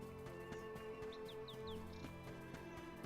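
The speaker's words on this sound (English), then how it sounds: "did you hear little birdies?" Faint birdsong in the video game Visions of Mana: a few quick high chirps in a short run, set low in the mix over a soft ambient game backdrop.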